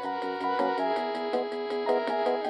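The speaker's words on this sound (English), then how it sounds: "your home computer sounded like this." Early home computer music of the 1980s, a bright chiptune-like synthetic pattern of pulsing repeated notes in a steady rhythm, played alone and fairly loud with no talking.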